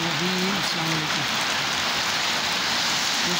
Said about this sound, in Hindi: सऊदी अरब के अंदर बहुत ही ज़्यादा तूफ़ानी बारिश हो रही है